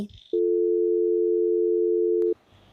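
A single long, steady telephone tone of about two seconds while waiting for a call to connect, loud and alone, with brief faint noises before and after.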